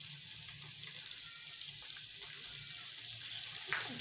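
Garlic, ginger, tomato and green chili frying gently in a pan, a soft steady sizzle heard close but fairly faint, with a small clatter near the end and no voices.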